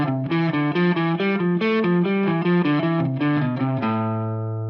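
Distorted electric guitar runs a scale in thirds, skipping back and forth through steady, evenly picked notes before settling on a long sustained low note that fades, with no talking.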